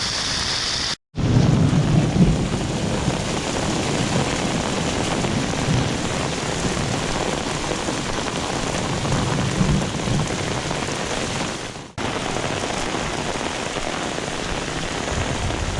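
A heavy thunderstorm in Guadalupe, Colombia, heard while walking outside: a loud, steady downpour roars throughout over low thunder rumble, with short drops in level near the start and around twelve seconds.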